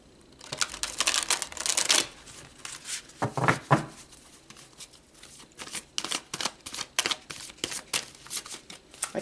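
Tarot cards are shuffled by hand in a quiet room, a rapid run of crisp riffling flutters and slaps in close, irregular bursts, with no talking.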